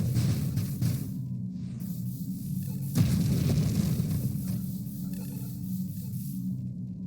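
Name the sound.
explosions from video game Nova Drift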